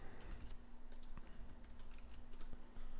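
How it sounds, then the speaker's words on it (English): Someone types on a computer keyboard at a day-trading desk. Soft, fast key clicks come in uneven bursts, fairly faint, under a steady low hum. "If you do hear typing, that's just me making alerts"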